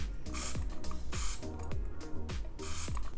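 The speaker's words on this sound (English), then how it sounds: "The atomizer is actually really good. You can get a decent amount of measured spray." Four short bursts of spray from a perfume atomizer on a Philipp Plein No Limit$ fragrance bottle, each a quick close hiss, spaced evenly over a low steady background with no talk.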